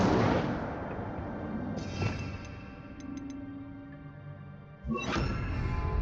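The Incendio fire spell in the video game Hogwarts Legacy bursts out with a loud whoosh at the start, fading into a sustained roar with small chimes, then a second strong burst near the end.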